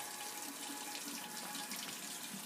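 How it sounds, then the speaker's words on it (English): Tap water runs steadily into a sink, a continuous close hiss and splash of the faucet stream with no voices over it. "Put some tap water."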